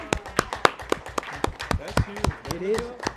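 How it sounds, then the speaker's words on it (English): Sparse applause from a small audience at a school board meeting, individual claps spaced like a handful of people clapping slowly, fairly quiet, with speaking voices over the end. "Please join me in giving her a round of applause."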